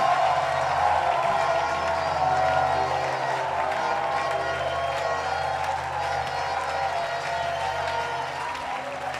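A church congregation claps in praise during a bilingual English-French service, sustained dense applause with some cheering, steady and loud, easing slightly toward the end.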